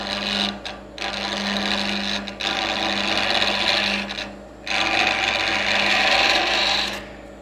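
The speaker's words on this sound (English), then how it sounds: "now we're actually turning it on the axis of the hole" A wood lathe turns an oil lamp while a tool cuts, giving a loud, close rasping hiss over a steady motor hum, broken into three long cutting passes with short pauses between them.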